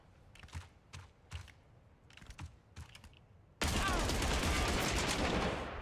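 Rapid automatic gunfire with heavy recoil in the shooter Arena Breakout, a dense loud continuous burst cutting in after a stretch of sharp separated clicks and shots.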